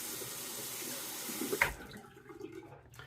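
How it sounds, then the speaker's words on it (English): Water is scooped by hand from a bathroom basin to wet a Treet razor for shaving, a close splashing, trickling wash that ends in a sharp splash before fading to quiet drips. "I'll go ahead and lift a little bit of water out of that basin"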